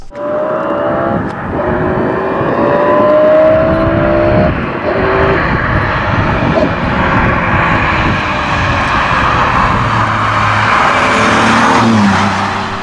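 The street-legal Mercedes-Benz CLK GTR drives past with a loud, steady engine roar whose pitch slowly rises and shifts, as if it is accelerating. No one talks over it.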